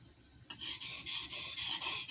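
A blade is sharpened on a cheap Loveeta water stone from Amazon with rhythmic, gritty rasping strokes, about six passes in under two seconds after a brief quiet moment, close and fairly soft.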